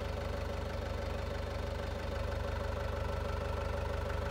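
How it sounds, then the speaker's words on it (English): A 105-horsepower Kubota tractor engine running steadily out in a field, a continuous low diesel rumble with a fine rhythmic knock, close and unchanging throughout. "Now this is a 105 horse tractor, but it is a Kubota, so it is a little bit light."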